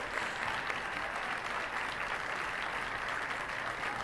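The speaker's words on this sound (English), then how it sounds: "the various fiends and demons and devils and etc. stand here suddenly cheering and jeering, throwing hands into the air" A crowd of fiends, demons and devils cheers and jeers in a dense, steady wash of clapping and crowd noise that holds at the same level from start to finish.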